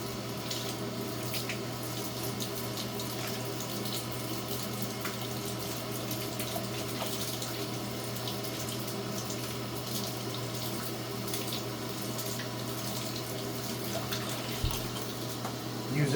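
Water runs steadily from a hose while parts of a Bissell PowerForce 3537 vacuum cleaner are washed, a continuous close splashing rush with a low hum under it and no talking.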